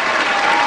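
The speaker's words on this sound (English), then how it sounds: "Let me just give a round of applause." A round of applause from a live audience, steady clapping filling the whole short moment, loud and close with no pauses.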